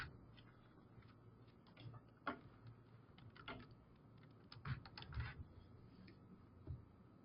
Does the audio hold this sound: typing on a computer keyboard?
yes